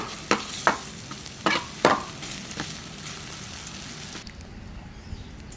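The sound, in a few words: onions sautéing in a pan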